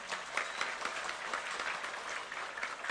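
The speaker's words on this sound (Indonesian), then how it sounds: "Tepuk tangan untuk NU." Crowd applause at an Islamic sermon gathering, a dense, even wash of clapping that holds steady for three seconds without any pause or voice on top.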